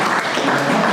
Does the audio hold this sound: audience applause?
yes